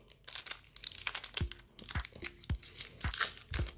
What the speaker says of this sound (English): Sometimes these packs are a little tough to open up.